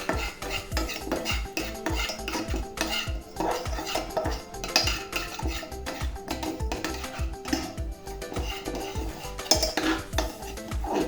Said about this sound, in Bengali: অনবরত লাড়তে থাকা লাগবে